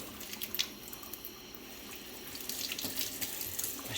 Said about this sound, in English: we're just gonna wash them with cold water.